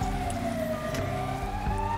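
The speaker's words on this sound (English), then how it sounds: "there's the flying ambulance" An ambulance siren wails steadily and loudly at close range, a sustained rising tone with a low rumble of traffic beneath and no talking.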